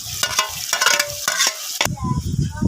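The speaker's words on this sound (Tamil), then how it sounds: "தக்காளி பச்சை மிளகாய் போட்டுக்கலாம் நல்லா வதக்கி விட்டுக்கலாம்" Tomatoes and green chillies fry and crackle in a pan while a utensil scrapes and clatters in quick stirring strokes, close and fairly loud, with no talking.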